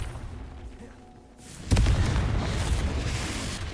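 The Confringo blast spell from a Harry Potter video game erupts in one sudden explosive boom after a quiet lull, followed by a heavy rumbling roar that keeps going.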